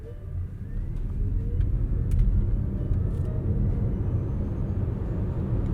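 A 2026 Toyota bZ4X electric car accelerating hard, a steady low rumbling road and motor roar that holds loud throughout with a slight swell midway, no voices.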